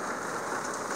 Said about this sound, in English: it is raining straight down right now